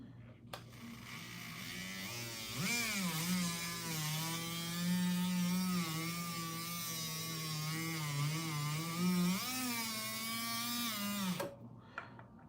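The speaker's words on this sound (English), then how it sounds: "I'm going to come in with a little bit of a heavier sander." A heavier power sander works a ridge on a watch-related piece, its motor whine rising and dipping with pressure for about nine seconds, close and steady, starting and stopping cleanly.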